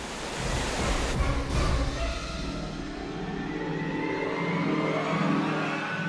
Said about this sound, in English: It's a 40-foot waterfall.